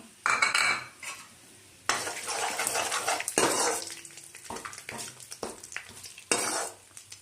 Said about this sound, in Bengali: তেলের উপর দিয়ে দেব অল্প জিরা আর এই যে একটা তেজপাতা তেলের উপর দিয়ে দিচ্ছি।